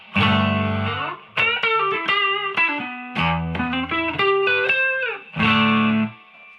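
An electric Fender Stratocaster, through a Paul Cochran Timmy pedal and a spring reverb pedal into a vintage 1965 Fender Princeton amp, plays a lightly overdriven melodic phrase of single notes and chords, loud, close and alone.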